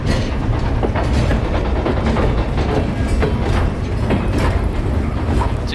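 A long train rolls past close by, its steady rumble carrying a continuous clickety-clack of wheels over rail joints for the whole stretch, with no voices.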